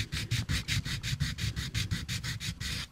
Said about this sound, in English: just use my sanding block and just sand that glue